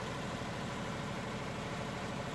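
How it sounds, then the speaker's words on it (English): A Perkins diesel generator set runs with a steady, even mechanical drone, low and constant over a couple of seconds, heard on its own without voices. "Now the engine is running."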